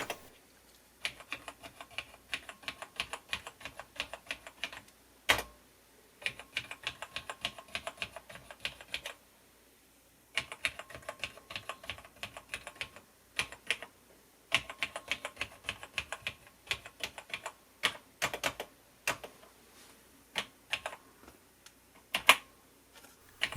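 Steady bursts of clicky keystrokes on the keyboard of a restored vintage TRS-80 laptop, typed in quick runs separated by short pauses, close and fairly quiet with no voice.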